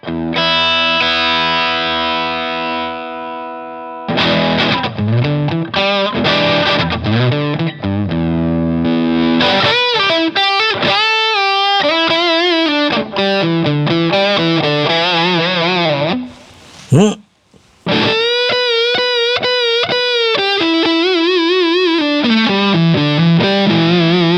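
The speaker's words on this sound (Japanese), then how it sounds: "この辺の音の伸び方、コンプ感と歪み切ってないけど音が伸びる感じ" Electric guitar played through a Japanese-designed LPD Pedals distortion pedal voiced like a Dumble amp: a sustained chord, then fast melodic runs and bends with compressed, singing sustain and mild overdrive, loud and continuous.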